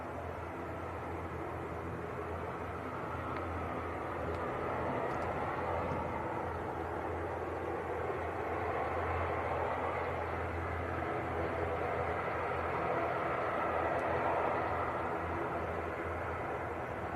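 A Ryanair airliner rolls for takeoff toward Dublin at Manchester Airport, a steady, broad jet roar at moderate distance that swells slightly mid-way and holds without a break for the whole stretch, no voices over it.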